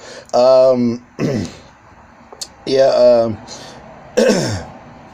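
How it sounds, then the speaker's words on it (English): A man clears his throat several times in a row, close and loud, a series of short rough bursts separated by brief pauses, with nothing else around it. "I had to clear my throat for a second."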